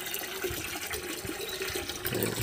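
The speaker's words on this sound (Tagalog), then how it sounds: "Oh, ang bilis ang tubig." Fast-flowing water in a forest stream, a continuous close rushing and splashing with no pause.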